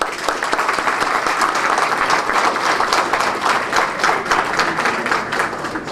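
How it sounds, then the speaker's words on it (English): An audience at a formal evening event in New York breaks into sustained applause, dense steady clapping from many hands filling the room at a strong, even level. "Let's give them a good round of applause."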